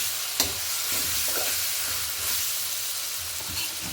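Mustard seeds, dried red chilies and curry leaves fry in hot oil for a chicken chukka, giving a continuous close sizzle with a few small pops and stirring scrapes.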